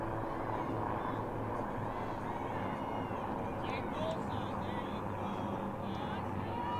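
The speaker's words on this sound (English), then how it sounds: "as the military helicopters overhead." Military helicopters pass overhead during a girls' varsity high school soccer match, a steady, loud droning roar that fills the whole stretch without letting up.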